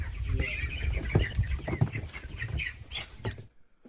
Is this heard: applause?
no